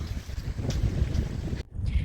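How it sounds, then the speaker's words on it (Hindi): Strong wind buffets the microphone at Pangong Lake in Ladakh, a loud, low, gusty rumble that surges and dips, briefly dropping out before roaring back. "यहाँ बहुत हवा चल रही है।"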